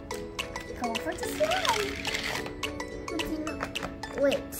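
Water splashes and trickles through a Hot Wheels Mega Tower Car Wash toy, with plastic clinks and someone talking over the running water.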